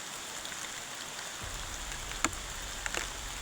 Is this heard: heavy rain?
yes